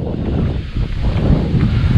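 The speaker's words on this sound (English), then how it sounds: "Windy shoreline." Steady, blustery wind buffets the microphone on a shoreline, with a low rumbling roar and a faint wash of surf underneath.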